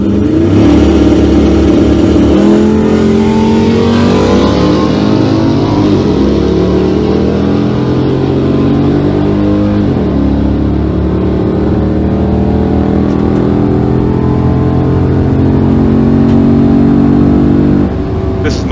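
A 6.1L HEMI car fitted with an aFe Magnum FORCE Stage 2 cold air intake roars down a quarter-mile drag strip, its engine note climbing through repeated gear pulls, loud and close for the whole run.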